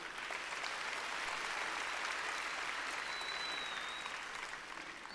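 A congress audience in Nairobi breaks into a full round of applause, dense and steady clapping from a large crowd that holds at an even level for five seconds before easing slightly at the end.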